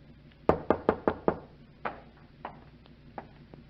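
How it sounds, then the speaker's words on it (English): Knuckles rap on a wooden door in a radio drama: a quick run of five sharp, loud knocks, then a few slower, softer ones that trail off. "I went upstairs, opened a bottle, and waited for your knock on my door"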